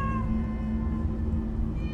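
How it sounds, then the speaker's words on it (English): Cats meowing in the Minecraft Story Mode video game, a steady drawn-out mewing with soft game music underneath and no talk. "Oh, many cats. So many cats."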